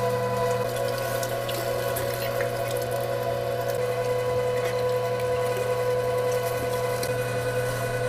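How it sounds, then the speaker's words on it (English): A LEM number 12 electric meat grinder runs continuously while grinding deer meat for jerky, giving a steady motor hum with strong tonal whine and faint grinding texture, close and uninterrupted. "LEM number 12 will take it just about as fast as you can feed it in there"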